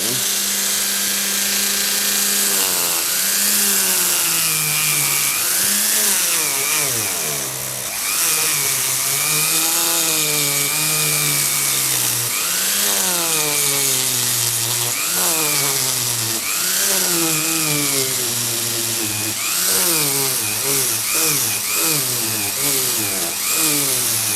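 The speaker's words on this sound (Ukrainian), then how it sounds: "Спробуємо далі пошліфувати це саме дерево за допомогою шліфувальної насадочки" A Mächtz MMG-280 rotary engraver with a sanding attachment, set to speed four, whirs continuously against wood, its pitch rising and dipping repeatedly as it grinds and sands, loud and close throughout.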